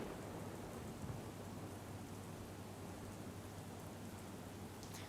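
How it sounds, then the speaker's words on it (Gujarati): Heavy rain falls steadily with rumbling thunder during a downpour of about three inches in the Barda area of Gujarat. The wash of rain stays constant and fairly faint throughout, and no voices are heard. "બરડા પંથકમાં ગાજવીજ સાથે 3 ઇંચ વરસાદ પડ્યો છે"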